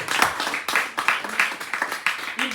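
A church congregation claps at a special mission service, a modest, uneven burst of hand claps in loose rhythm, fairly soft and close.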